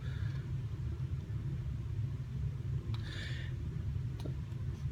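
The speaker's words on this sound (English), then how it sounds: "We are experiencing some thunderstorms and some lightning here right now" Steady low rumble of thunder rolling through a thunderstorm as a tropical storm approaches South Florida, continuous and moderately loud, with a few faint ticks and no talking.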